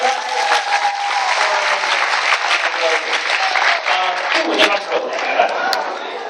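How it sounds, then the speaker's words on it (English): Steady applause from a convention audience at a guest panel with J Michael Tatum, dense clapping held at an even level throughout, with a murmur of voices beneath it. "And everyone, a round of applause again."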